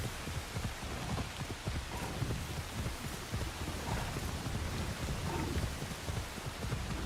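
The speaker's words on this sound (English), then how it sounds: "The atmosphere sound effects are so good. Like the rain and the thunder, the environments and all that" Rain ambience in Assassin's Creed Shadows: steady, dense rainfall hissing across the whole stretch, with low rumbles that suggest thunder underneath and no talking.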